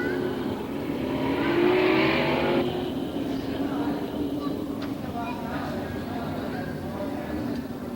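Modified race cars roar around the Canaan speedway during a 50-lap feature, engines swelling and fading in the distance as they pass, under continuous race commentary.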